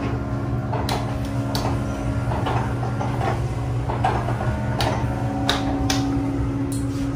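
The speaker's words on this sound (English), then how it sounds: "I'll show the windshield washer how they work, actually." Windshield washers running aboard a 48-foot Ocean Super Sport Convertible boat, a steady mechanical hum and whir with irregular ticks and clicks, fairly close and alone without talk.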